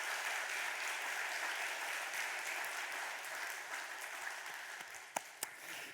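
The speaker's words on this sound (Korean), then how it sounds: "우리 2층, 3층 다 함께 힘차게 박수 한번 하도록" Congregation at a Korean church Sunday service, upstairs and downstairs galleries included, fills the hall with steady, sustained applause that holds level before a couple of sharper claps near the end.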